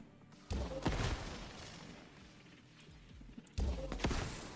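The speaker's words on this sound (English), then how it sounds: "so you can actually hear the new explosions" Two explosions in the video game Broadside, rendered with Nanite, arrive a few seconds apart, each a sudden booming burst with a crackling tail, moderately quiet overall.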